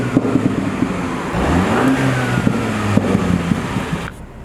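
A car in sport mode on a mountain road accelerates, its engine revving up with rising pitch over a rushing road and wind noise; close, moderately loud, with no voices.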